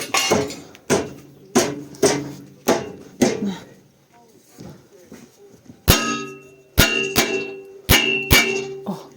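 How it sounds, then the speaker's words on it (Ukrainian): A small hammer strikes metal while repairing a mill, in a series of sharp, ringing clangs, spaced irregularly with a brief pause midway, close and fairly loud. "А маю взяти молоточком трошки"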